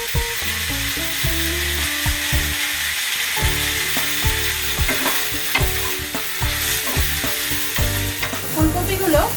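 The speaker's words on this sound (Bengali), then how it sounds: "যেহেতু ভাপানো আছে, একটু হালকা করে জাস্ট ভেজে নিলেই হবে।" Steamed cauliflower pieces are lightly fried in a pan with salt. A loud, continuous sizzle plays up close, punctuated by repeated scraping knocks of a spatula stirring against the pan, with no voices.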